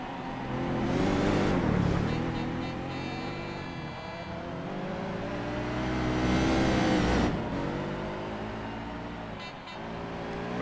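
A race car engine in the Gran Turismo 4 video game drones continuously, rising and falling in pitch as it accelerates and shifts, swelling twice to louder peaks, with faint talk underneath.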